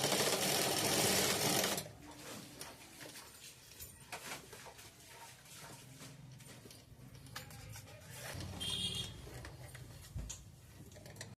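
A sewing machine stitches pants in a loud burst at the start, then runs in quieter stop-and-start bursts of rapid needle ticking with small clicks of handling between them.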